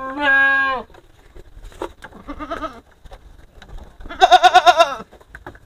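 Goats on an Indonesian goat farm bleat loudly and close by: one long wavering bleat at the start and a second, shakier pulsing bleat later, with quieter sounds and muffled activity in between.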